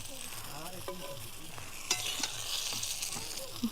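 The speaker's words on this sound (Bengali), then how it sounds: "আর একটু নাড়িয়ে চাড়িয়ে ভালো করে ভেজে নেব দেখুন বেগুনগুলো কি সুন্দর ভাজা হয়ে গেছে" Eggplant pieces sizzling in oil on a traditional stove while being stirred, the steady frying hiss broken by scraping and clinking strokes of the spatula against the pan.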